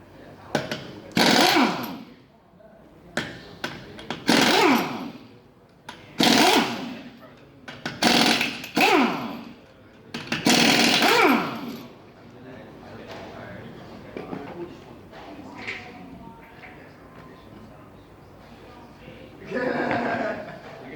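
A power tool working loose a vehicle's tire rattles in several short, loud bursts separated by pauses, with quieter shop noise between them.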